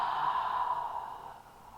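A soft, deep audible exhale during yoga breathing, a breathy rush that fades gradually toward the end.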